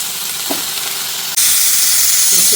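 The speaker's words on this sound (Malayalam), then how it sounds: "അപ്പോഴത്തേക്കും ചീര ഒന്ന് വാട്ടിയെടുക്കാം." Talinum leaves wilting in hot oil in a pan, a loud steady sizzle and hiss that jumps sharply louder partway through as more leaves hit the oil.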